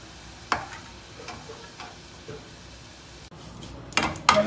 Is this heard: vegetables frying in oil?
yes